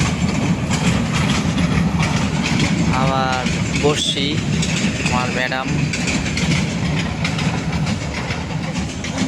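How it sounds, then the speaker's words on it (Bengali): A passing train near a village gives a loud, continuous rumble and rattle throughout, while a person talks over it. "দেখতে পাচ্ছেন ট্রেন"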